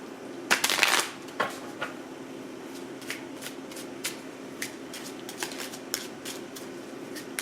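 Tarot cards being shuffled up close, first a quick riffling burst, then a series of soft, separate card taps and slides at irregular intervals, quiet with no talking.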